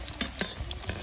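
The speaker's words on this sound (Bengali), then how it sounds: "আমি মিডিয়াম আঁচে ভাজবো" A snack frying in oil over medium heat gives a short burst of close bubbling sizzle with a few crisp pops and spatula taps, no voices.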